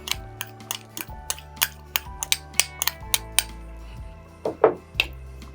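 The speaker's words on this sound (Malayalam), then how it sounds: "ഇനി ഇതിലേക്ക് നമുക്ക് ഒരു 3-4 സ്പൂണ് തൈര് ചേർത്ത് കൊടുക്കാം." Spoonfuls of yogurt go into a pan of taro curry, with a steady series of bright metallic clinks and taps of a spoon against the pan, close and clear with quiet gaps between strikes.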